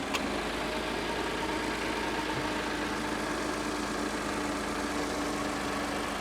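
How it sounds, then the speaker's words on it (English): A Ford V6 EcoBoost car engine idles steadily and quietly throughout, a smooth, even hum with no revving or other sounds. "And this is a quiet engine."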